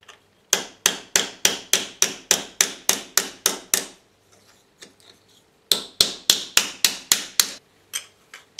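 Annealed, split copper tube gets hammered flat on a hard surface with bright metallic blows in two quick rhythmic runs, about a dozen strikes and then seven more after a short pause, loud and close.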